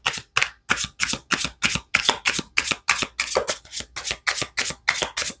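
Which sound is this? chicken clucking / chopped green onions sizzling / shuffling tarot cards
shuffling tarot cards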